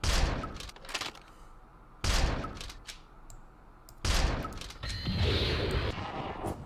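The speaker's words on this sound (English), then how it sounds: "Shot you in the ass." Gunfire in the ghost-hunting video game Ghost Hunters Corp comes as three loud, sharp bursts spaced about two seconds apart, and the last one runs on into a sustained rumble.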